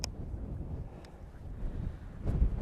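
Gusty outdoor wind buffets the microphone with low, rumbling rushes that swell and fade, including a stronger gust near the end, with no talking.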